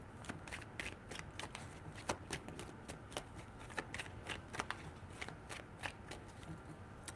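Tarot cards are shuffled by hand in quick, crisp riffles and slaps, a close, soft repeating rhythm that runs steadily throughout with no talk.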